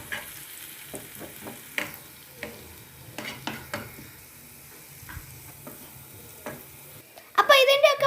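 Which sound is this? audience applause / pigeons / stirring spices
stirring spices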